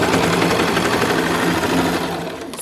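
A sewing machine runs continuously and close, back stitching a seam on a sweater cape, its rapid needle chatter and motor whir steady throughout before easing off at the end.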